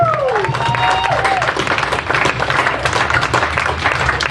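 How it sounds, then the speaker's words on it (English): Steady, dense applause from an audience at a memorial karaoke concert, loud and continuous throughout, with a few faint whistles or cheers mixed in. "And some more applause, please, for Gene and Carla of Karaoke Room"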